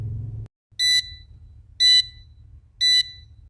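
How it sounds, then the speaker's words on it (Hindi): A BM730 voltage, ampere and watt meter beeps as its over and low voltage alarm triggers, giving three evenly spaced, sharp electronic beeps over a low background hum. "ओवर वोल्टेज और लो वोल्टेज पे सेट किया हुआ था, इस वजह से ये बीप कर रहा है।"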